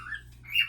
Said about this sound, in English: I'm sorry about my bird.